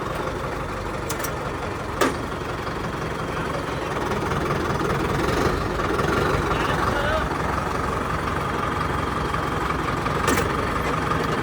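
A 2023 Massey Ferguson 5210 tractor with shuttle gears idles nearby in a steady low diesel rumble while people talk over it, with a couple of sharp clicks.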